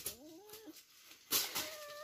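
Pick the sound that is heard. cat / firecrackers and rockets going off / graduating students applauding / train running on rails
cat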